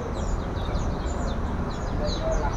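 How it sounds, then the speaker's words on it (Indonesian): A male-and-female pair of sriwang (tali pocong) birds at a bird shop give repeated short, thin chirps over a constant bed of shop noise, fairly close and moderately loud. "untuk sriwangnya atau burung tali pocong ini sepasang ya, jantan sama betina"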